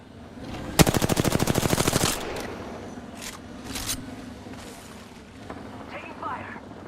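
Gunfire in the video game Apex Legends: one loud, rapid automatic burst of about a dozen evenly spaced shots, followed by a few scattered thuds and game sounds, with speech through the clip.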